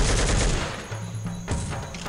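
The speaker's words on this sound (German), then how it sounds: "das war eine Blendgranate" A flashbang grenade goes off in Soldier of Fortune II, a sharp blast with a ringing tone after it, close and loud, with no talking.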